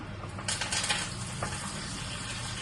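Curry leaves dropped into hot tempering oil on a switched-off stove give a brief burst of crackling sizzle that settles into a soft, steady frying hiss.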